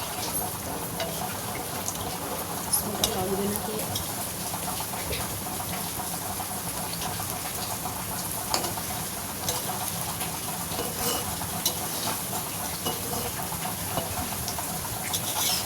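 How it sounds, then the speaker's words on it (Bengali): Palm fruit gaja pastries frying in hot oil, turned to brown on both sides, give a steady dense sizzle with crackling pops that holds at an even level throughout, close by and with no voices. "দেখুন বন্ধুরা আমরা সুন্দরভাবে ভেজে নিচ্ছি"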